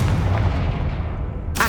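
Confringo blasting spell explosion in the Hogwarts Legacy video game: a heavy, rumbling boom rolls on steadily, then a sharp crack bursts in at the very end.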